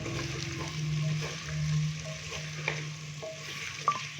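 Boiled mutton frying and being stirred with ginger garlic paste in a pan, a steady close sizzle with light scraping stirs and a few small clinks, no voices.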